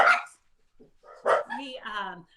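Dogs bark indoors at home in a few short, close bursts separated by brief silences.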